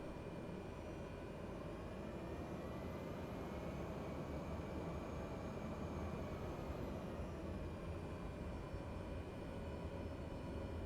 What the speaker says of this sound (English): Cleared for takeoff runway 10 Strobe Cessna.